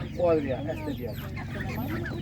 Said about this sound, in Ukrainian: Ось такі півники.